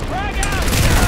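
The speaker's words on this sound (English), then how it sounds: "Oh, that was a turret." A Planetside 2 turret fires a rapid, loud burst of booming shots, close and dense, with a voice talking over the gunfire.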